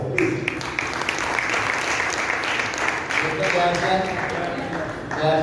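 Audience at a business meeting in Modinagar clapping loudly to welcome a guest speaker, a steady crowd patter running throughout while someone speaks over it.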